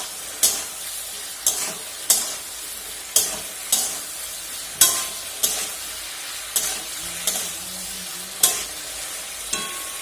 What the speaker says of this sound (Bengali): দিয়ে এটাকে এখন আমি ভালো করে কষিয়ে নেব মশলাটাকে।